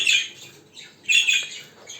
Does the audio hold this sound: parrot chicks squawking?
yes